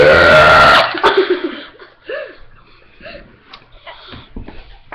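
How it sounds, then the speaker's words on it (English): A person lets out one long, loud, close burp, followed by several smaller, fainter burps and throaty noises spread across the rest of the clip. "I'll burp for you some more next video"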